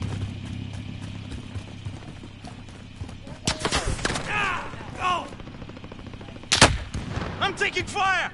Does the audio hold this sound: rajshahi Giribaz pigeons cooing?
no